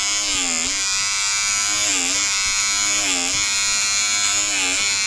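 A battery electric seam ripper buzzes steadily up close while cutting out a pleated seam, its motor pitch dipping in a few regular drops as it bites into the stitches.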